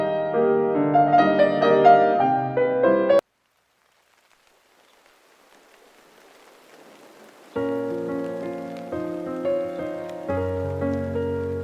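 Soft rain falls quietly in a gap between melodic music passages on a community radio broadcast, a faint diffuse patter heard alone for about four seconds before the music resumes.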